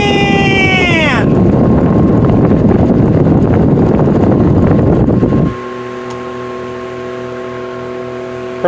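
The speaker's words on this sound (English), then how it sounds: "Fan! That's blowing right at the camera so you can't hear me." Vintage restored Vornado window fan blowing straight into the microphone, a loud rushing wind roar with a whining motor tone that winds down, then drops to a quieter steady hum with a tonal drone, close up.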